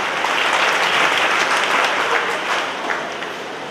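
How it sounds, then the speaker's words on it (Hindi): An audience at an agricultural science talent award ceremony breaks into loud, steady applause, a thick wash of clapping that tapers off toward the end. "आप ये ताली बजाएंगे"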